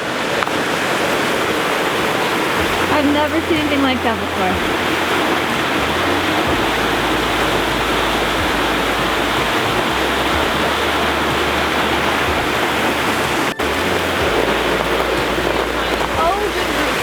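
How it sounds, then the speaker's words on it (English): Meltwater roars as it pours down into a deep moulin on the Matanuska Glacier in Alaska, a steady close rush of falling water, with people talking excitedly over it throughout. "An ice waterfall."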